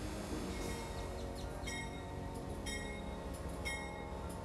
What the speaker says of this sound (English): our train rolls out of storage and onto the platform before us.